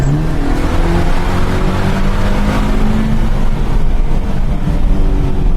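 A car engine close by, rising in pitch as it revs up through successive gears, loud and continuous with no voices.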